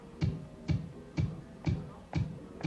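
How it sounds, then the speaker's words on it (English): A steady four-on-the-floor kick drum, six evenly spaced thumps about half a second apart, dry and punchy with nothing else playing. "16 bars of bass drums there. It sounds like this."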